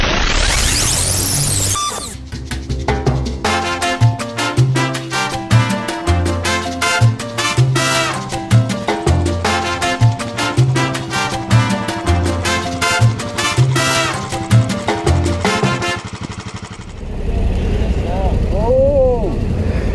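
Yamaha Tenere T7 adventure motorcycle ridden off road at the ABR Festival 2024, its loud, steady engine rising and falling through gear changes in a rapid rhythmic drone, close up for most of the stretch before easing into rougher wind noise near the end.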